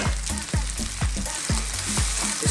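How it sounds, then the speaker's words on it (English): Onions cook in a pan for garlic tomato chicken, a loud, close, continuous sizzle broken by regular sharp scraping strokes of a utensil, about two per second. "Our onions are cooking, but not browning that much"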